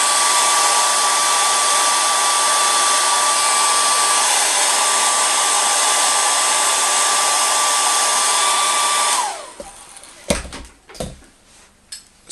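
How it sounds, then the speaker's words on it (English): A hair dryer blows hot air across watercolour paper, a loud, steady whoosh for about nine seconds before it cuts off, followed by a few faint knocks and handling noises. "That's why I use a hairdryer."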